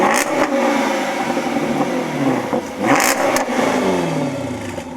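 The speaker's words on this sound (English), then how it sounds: "Same thing in the XKR-S then." A Jaguar XKR-S revved hard in neutral while stationary, its engine note rising and falling in loud repeated blips with sharp throttle stabs, close and alone.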